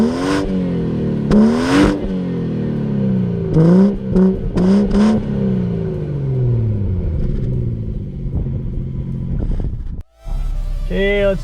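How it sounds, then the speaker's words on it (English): A 2018 BMW M240i xDrive engine revs repeatedly, its pitch rising and falling in several surges, loud and close, ending in a deep idle rumble. "let's move in and check out how that engine sounds."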